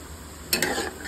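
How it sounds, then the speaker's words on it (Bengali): Tilapia fish frying in a pan gives a low background sizzle, then a short sharp burst of spattering and scraping near the middle before settling back to a gentle crackle. "এদিক দিয়ে আমি তেলাপিয়া রান্না করতেছি"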